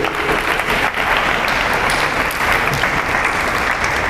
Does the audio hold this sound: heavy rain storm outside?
no